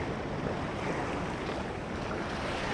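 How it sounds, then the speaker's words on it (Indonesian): Ocean waves grow higher along the Sukabumi and Banten coast, making a continuous loud, close wash of surf with wind noise buffeting the microphone, and no voices heard. "ini sepertinya ombaknya udah makin tinggi ya"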